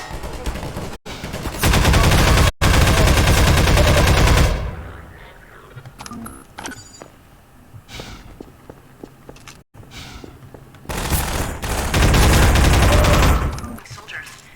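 Automated turrets in Half-Life 2 unleash two long, deafening bursts of rapid machine-gun fire, separated by quieter footsteps and scattered clatter.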